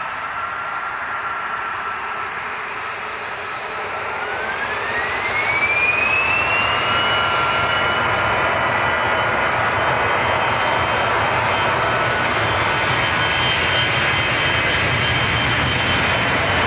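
A 28-year-old Jet2 jet airliner departing for Alicante, its engines roaring loud and steady, swelling in power and holding a broad, sustained rumble with a rising whine.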